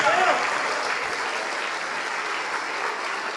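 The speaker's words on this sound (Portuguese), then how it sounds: "vamos aplaudir mais ao nome de Jesus" A church congregation claps during a service, producing a dense, even wash of applause that holds steady throughout, with a brief voice at the start.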